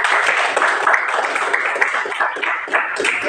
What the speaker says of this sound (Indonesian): Kalau sudah jelas, coba kasih tepuk tangan